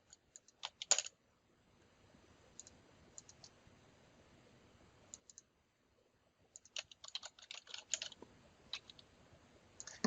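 Fingers type on a computer keyboard in a quiet office, quick bursts of clicking keystrokes separated by a short pause, close and fairly soft, with no voices.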